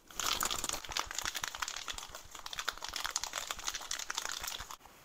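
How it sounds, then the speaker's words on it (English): A cocktail shaker with two ice cubes and a coconut mojito mix is shaken, giving quick, irregular rattling and clattering hits up close for several seconds before stopping abruptly. "Place 2 cubes inside of the shaker and shake."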